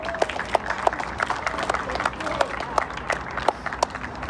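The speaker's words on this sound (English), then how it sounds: "Can we clap it up for George Floyd and his family?" Sparse audience clapping in a small gathering, individual hand claps popping out distinctly over a low murmur at moderate distance.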